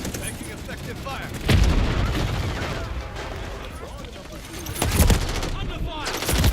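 Battle gunfire in Call of Duty MW3, with dense sustained shooting and heavy booming bursts near the start, middle and end, loud and close, under speech.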